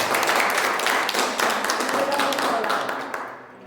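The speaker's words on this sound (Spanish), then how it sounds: "Lo recibimos con un fuerte aplauso." Audience applause at an academic seminar on death studies, a dense burst of hand clapping that starts loud and steady, then gradually thins out and fades.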